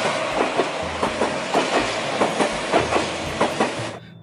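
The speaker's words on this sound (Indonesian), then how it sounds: "Wow, ada kereta cepat." A train rushes past nearby, its wheels clacking in a steady rhythm over the rail joints before the sound cuts off abruptly.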